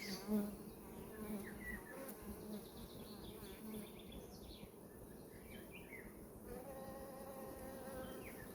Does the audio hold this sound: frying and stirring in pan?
no